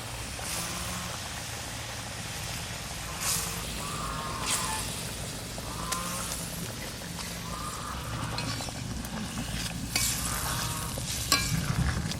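Pointed gourd (potol) fries in a pan, a steady sizzle under the scrape and clatter of a spoon stirring at intervals, close and moderately loud with a low background hum.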